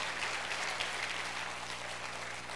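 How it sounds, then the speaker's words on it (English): A church congregation claps together as an offering during a worship service, a steady, moderately loud wash of many hands filling the room without pause. "Let's give a clap offering to the Lord."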